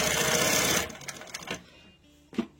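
A Sewmaq SW-2220 double-needle sewing machine stitches in a quick, close burst that stops after under a second, followed by a few faint mechanical clicks.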